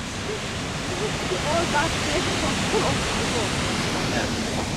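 The Blue Nile waterfall at Tis Abay village in Ethiopia roars as a dense, steady rush of falling water with wind. Faint voices sit under the constant noise.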